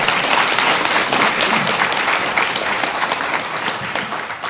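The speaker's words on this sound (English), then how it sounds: "please keep it down and not applaud after everything" Loud, dense applause fills a public school board meeting as the audience claps steadily throughout, a continuous crowd clapping with no pauses and only faint hints of voices beneath.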